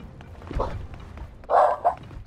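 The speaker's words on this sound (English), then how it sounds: "Sorry for my dog barking." A dog barks twice indoors, a short bark followed by a louder, longer one, over a low background hum.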